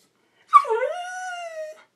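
A dog lets out a single close, high whimpering yip that slides down into a drawn-out whine, heard alone against silence.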